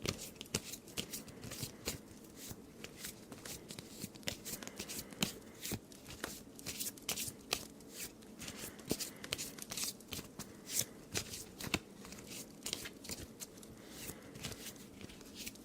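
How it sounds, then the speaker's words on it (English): Cards being shuffled over and over, a steady run of crisp riffling and flicking bursts, close up with no talking. "we're going to give you a little shuffle, and your card will be the 15th card in the deck"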